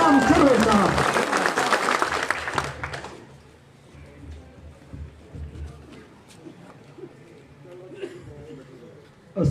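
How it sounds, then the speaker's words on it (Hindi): Loud applause from a political gathering in Bihar welcomes the speaker Ghulam Sarwar, dense clapping for about three seconds, then fading into quieter crowd murmur and scattered noise. "एक बार जोरदार ताली से स्वागत करें गुलाम सरवर साहब।"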